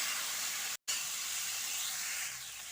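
Boiled potatoes and elephant apple (outenga) frying with spices in a pan, a steady broad hiss of sizzling oil close by with one brief silent break.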